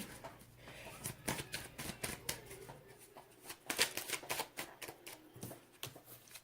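Tarot cards shuffled by hand in a series of quick riffling bursts and soft flicks, close and fairly quiet, with no talking over them.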